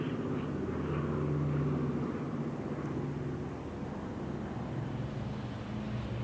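A Douglas DC-4 piston airliner, the last one built and delivered to South African Airways in 1947, flies past at an airport anniversary flypast with a steady, loud droning engine rumble and some wind noise throughout.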